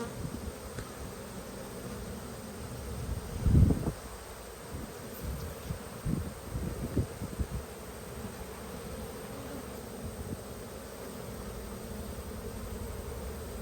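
Honey bees buzz faintly around an open hive during an inspection, a soft steady drone with a few brief louder thumps and handling knocks close by.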